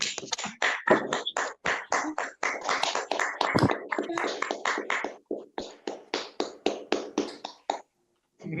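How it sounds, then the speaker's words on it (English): Sharp, separate claps from a small online group at a virtual prizegiving, uneven bursts of hand claps layered from several sources, with short pauses between them and a brief silence near the end. "a big, massive round of applause for the School of Architecture, Planning and Geomatics"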